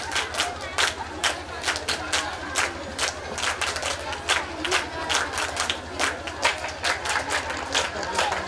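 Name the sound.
audience applauding for children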